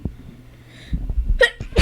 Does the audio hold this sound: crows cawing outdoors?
no